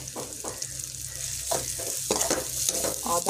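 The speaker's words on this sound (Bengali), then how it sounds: "এই আদা, রসুন আর কাঁচা লঙ্কা বাটা দিয়ে কিছুক্ষণ আবার নাড়ব।" Ginger, garlic and green chili paste stirred into a frying pan of tomatoes for fish curry, with a steady close sizzle and scraping strokes of the spoon every half second or so.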